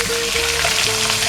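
Whole garlic cloves fry in hot oil for a khichuri, giving a steady, close, loud sizzle that crackles continuously with no talk.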